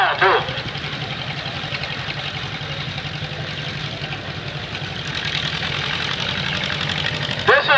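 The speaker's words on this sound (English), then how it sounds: "Nice little John Deere H. Very collectible right now, too." A small John Deere H tractor engine idles and chugs steadily in a thresheree parade, with a low, even running sound throughout and brief background noises at the start and end.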